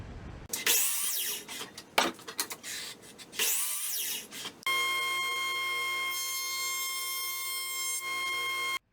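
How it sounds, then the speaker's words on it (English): A wood jointer planes rough boards during the making of replacement kitchen-chair parts: two loud passes of cutting roar, each rising and then cut off, followed by the machine's steady whine as it runs on. "This ugly looking wood turns into that with just 2 swipes on the jointer."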